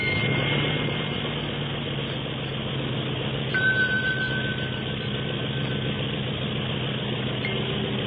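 A small motor drones steadily throughout, a thin buzzing hum with a brief higher whine partway through.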